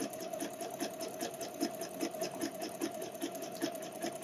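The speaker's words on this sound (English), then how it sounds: "trying to make sure everything is straight and sewing close to the edge" Sewing machine stitching close along the edge of a wireless bra, a steady rapid run of needle strokes at close range, continuous and moderately quiet with no talking.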